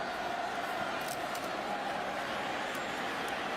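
A large football stadium crowd at Florida State versus Miami in 2018 roars in a broad, sustained wash of noise with disapproving shouts, filling the space evenly and heard from a distance.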